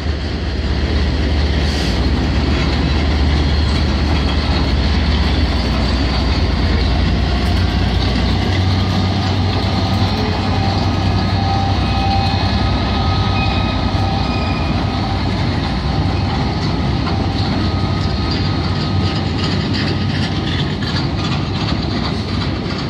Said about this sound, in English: And the Holyhead train is going to chase him.